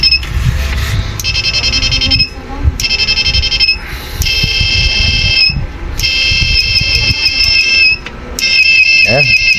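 Electronic buzzer on a repaired IGBT-type machine circuit board sounding in repeated shrill beeps of about a second each with short gaps, loud and close, over a low hum and some background noise.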